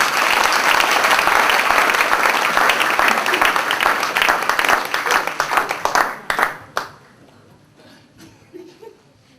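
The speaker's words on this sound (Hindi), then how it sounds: "जो मिस्टर रामकिशन जी के लिए जोरदार तालियां।" Loud, dense audience applause at an Emerald celebration event, sustained for several seconds before thinning into scattered claps and fading out.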